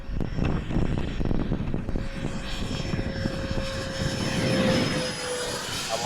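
A Habu SS 70mm electric ducted fan RC jet on a 6S battery flies past outdoors, its loud rushing fan roar swelling and fading with a rising and falling whine.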